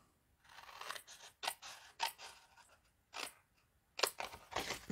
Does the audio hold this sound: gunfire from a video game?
no